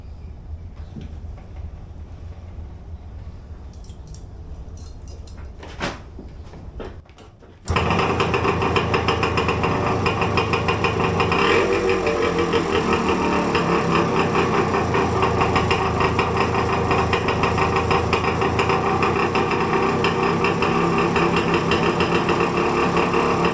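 A 1970 Suzuki TC-120 motorcycle with a faulty clutch: faint knocks and handling sounds, then the small engine suddenly runs loud and close, a steady buzzing idle that continues to the end.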